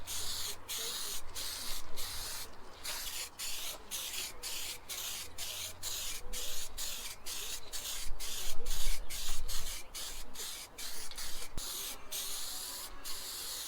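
Aerosol base coat sprayed onto a homemade Audi A2 rear spoiler in silver LY7W: a close, sharp hiss in a rapid series of short, evenly spaced bursts, alone without talk.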